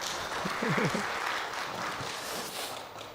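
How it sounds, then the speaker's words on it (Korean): Church congregation clapping during a Sunday worship service, a steady spread of applause that stays at an even level throughout, with a brief voice audible early on. "우리 아이들 갈 건데 박수 한번 쳐주세요."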